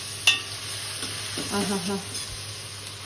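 Curry leaves crackle in a hot tempering for a Maharashtrian varan phal, with a sharp clunk at the start, then a quiet, continuous sizzle and stirring up close, and a brief exclamation from a voice.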